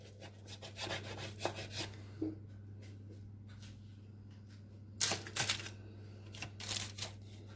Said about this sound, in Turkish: pizza şeklinde keseceğim